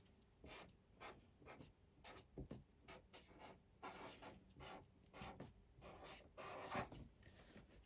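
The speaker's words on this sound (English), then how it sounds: "I'm going to write the word finally." Pencil or pen scratching out a word on paper, a run of short rubbing strokes with small pauses between letters, close and soft, with no voices.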